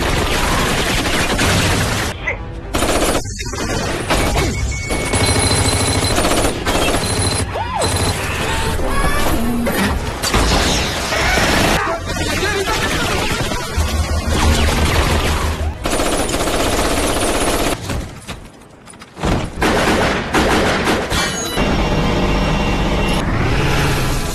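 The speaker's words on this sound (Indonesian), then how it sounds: "Merasa terdesak, tim Ghost ini pun kembali baku tembak dengan musuh yang baru." Loud, dense gunfire fills a film shootout between an elite special forces team and enemies, with rapid automatic bursts, crashes and impacts nearly continuous and one brief lull.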